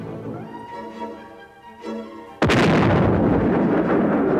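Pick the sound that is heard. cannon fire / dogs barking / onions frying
cannon fire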